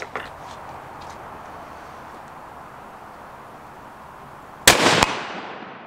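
A .204 Ruger rifle fires at a steel target outdoors: one loud, sharp crack near the end, preceded by a few faint ticks over quiet background.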